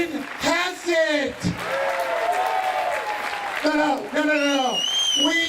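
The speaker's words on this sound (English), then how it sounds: "One big round of applause for the Board of Education." A crowd applauds the Board of Education at a Manhasset community gathering, with steady clapping throughout under loud voices, calls and a few cheers rising over it.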